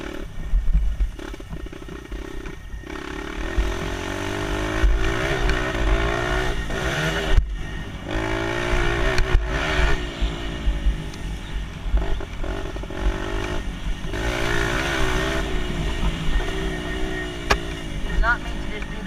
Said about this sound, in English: I accidentally just downshifted without using the clutch.